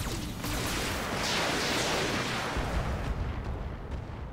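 Weapon fire in a mech video game, a sustained roaring barrage of heavy artillery-like blasts rumbling continuously at steady loudness.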